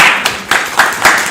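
Audience applause at an author event for the Victoria Festival of Authors, a steady wash of clapping with rhythmic peaks about every quarter second, fairly loud and close, with no talking over it.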